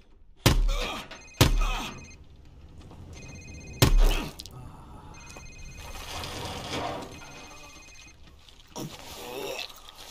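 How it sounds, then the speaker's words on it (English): A cell phone rings in a tense interrogation scene in Call of Duty: Modern Warfare, a few sharp thumps followed by repeated electronic ringing tones, with voices speaking in between. "Sir, it's his cell phone."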